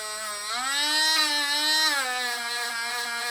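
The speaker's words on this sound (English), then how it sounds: "Here with the polishing pad. Make sure it doesn't shoot out of your hand. Don't max out the speed of the Dremel either." A Dremel rotary tool with a polishing pad works on an Avid BB7 bicycle disc brake, a close, steady high-pitched whine whose pitch rises slightly and then drifts back down over a few seconds.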